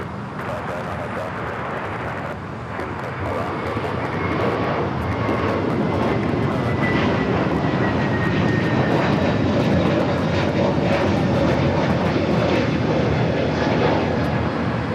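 A JetBlue Airbus A321neo departs LAX for JFK, a loud continuous jet roar that swells after the first few seconds and stays heavy, with a faint whining tone drifting through the rumble.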